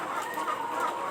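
A flock of laying hens in a farm coop in Magelang clucks and murmurs in a dense, steady chorus, fairly close and unbroken by any talk.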